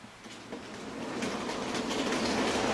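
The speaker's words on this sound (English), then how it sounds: "let's see if we can pull the whole train away this time without something becoming uncoupled" An OO gauge Bachmann SDJR 7F model locomotive pulls a rake of wagons, a steady close whirring rumble with faint rail clatter that builds slightly in loudness over a few seconds, with no voices.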